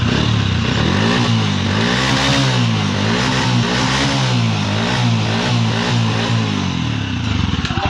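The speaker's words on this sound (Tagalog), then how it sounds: "hindi na siya palyado kaso puno ng carbon yung makina ni boss" A motorcycle engine with a carbon-clogged motor runs loud and close, idling steadily after its misfire was fixed, with a few revs near the end.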